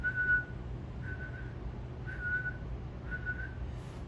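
A human imitation of a northern saw-whet owl call: a single steady whistled note repeats four times at an even pace, each about half a second long, over a low background hum.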